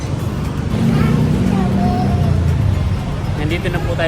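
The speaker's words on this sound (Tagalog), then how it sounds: "Sakay na po tayo ng jeep." A jeepney ride through Divisoria, with a loud, steady engine drone and road rumble close by throughout and voices faintly mixed underneath.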